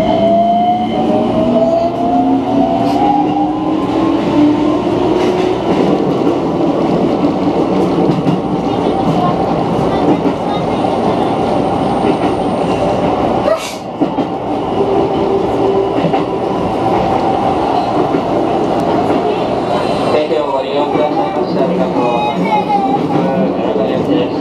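A Keikyu train pulls away and runs along the line, its motor tone rising as it accelerates, with steady rolling rumble and rail noise continuing loud and close from start to finish and a brief dip midway.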